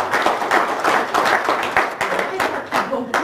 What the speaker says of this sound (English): give yourselves a round of applause, guys